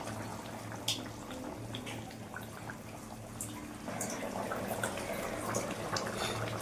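Water from a mixer jar poured into a simmering fish curry of raw mango and bhola fish, a steady close trickle and splash over the low bubbling of the pot, growing a little fuller toward the end.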